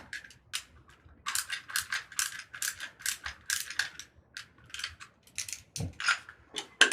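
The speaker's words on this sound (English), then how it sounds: "you obviously have to loosen these bolts right here" Ratchet wrench loosening the bolts on a Gongtopia Gibraltar stand for four gongs, heard as quick bursts of close, dry clicking with short pauses between strokes.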